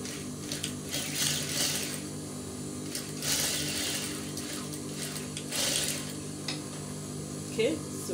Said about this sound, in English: I'll place it again under my sewing machine and I'll sew it like a dart